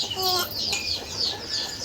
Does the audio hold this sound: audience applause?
no